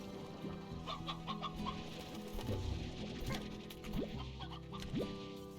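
Stony hens in the video game Slime Rancher cluck in quick repeated bursts amid a busy game soundscape, with a few sharp rising squeaks and soft impacts mixed in, moderately loud and without talk.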